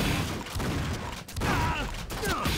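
Enemy fire in the first-person shooter Painkiller, with foes launching splitting bolts; dense, continuous bursts of shots and impacts fill the scene over game music and effects, with a brief dip partway through.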